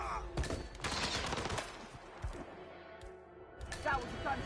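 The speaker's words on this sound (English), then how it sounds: "That was a gunshot!" Video game gunfire in Hitman 3, a few sharp bursts of shots close up amid chaotic action noise, with people talking over it.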